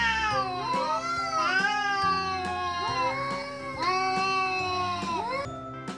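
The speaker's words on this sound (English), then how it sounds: "C for cat." A cat meows over and over, close and loud, in a steady run of drawn-out, wailing calls.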